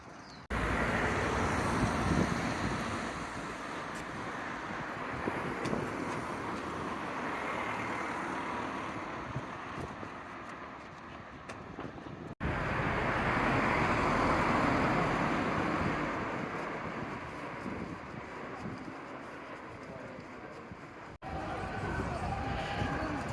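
City car traffic rumbles in a broad steady wash along a street on the Camino, with passing vehicles swelling and fading and a person talking over it.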